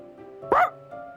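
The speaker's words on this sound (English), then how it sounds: "Pumpkin barks in response, wagging its tail and leading us to the door." A single short dog bark from Pumpkin, a dog in the video game Bacchanalia, sounding once at close range over a quiet low game background.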